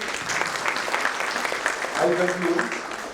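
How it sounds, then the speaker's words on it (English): Audience applause after a panel discussion, a short stretch of clapping running under a few murmuring voices and some brief talk. "Let's have a round of applause."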